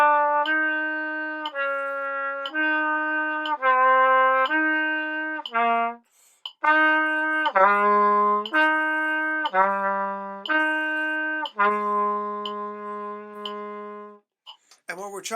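A trumpet plays a warm-up exercise of sustained notes moving through several registers in one breath, held tones shifting step by step, close and clear with a brief gap midway and no talking.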